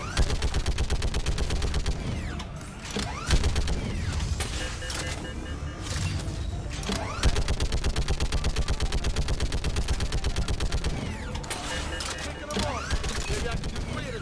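Rapid turret gunfire from the Mass Effect video game, dense repeated bursts with brief pauses, loud and continuous over game effects.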